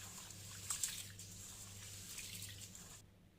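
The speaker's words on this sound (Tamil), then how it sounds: "நல்லா பிசைஞ்சு இதை அலசி எடுத்துக்கோங்க" Pearl millet (kambu) being kneaded and rinsed by hand in water while preparing dosai, soft close sloshing and dripping with light splashes, faint and continuous before cutting to near silence at the end.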